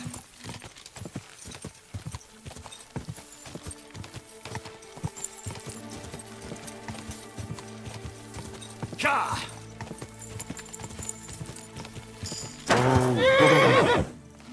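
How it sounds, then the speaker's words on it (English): Horse hooves clip-clop steadily throughout in the video game Kingdom Come Deliverance II, with a horse neighing loudly near the end; a voice speaks briefly over the sounds. "Easy, good horse."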